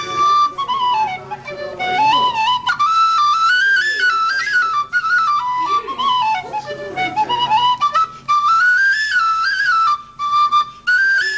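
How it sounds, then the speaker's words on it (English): An old traditional tune played on a tin whistle, a bright continuous melody with rising and falling runs, loud and close, with a few brief pauses between phrases. "You're going to give us an old tune on that tin whistle to start them off,"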